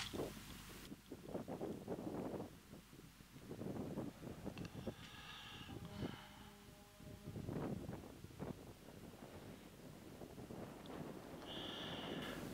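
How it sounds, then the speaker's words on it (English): Steady wind rumbles and buffets the microphone throughout, with gusts swelling and fading; faint higher tones drift in now and then. "it's a rather windy day, as you can probably guess"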